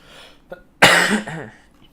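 One loud, harsh cough close to the microphone from someone recovering from COVID, preceded by a quick breath and trailing into a rasp.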